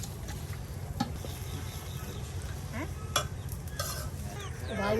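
Stirring in a pot of cooking village curry, with a steady sizzle and occasional scrapes and clinks of a utensil against the pot.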